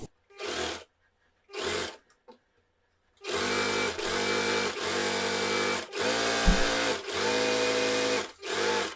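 Sewing machine stitching a women's cigarette pant, a few short whirring bursts followed by longer steady runs of rapid needle clatter, close and clear with no talking.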